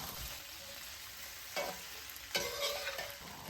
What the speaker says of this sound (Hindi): सारी चीज़ों को मिक्स कर लेंगे कि तड़के वाली चीज़ें चिपक जाएं चिकन को।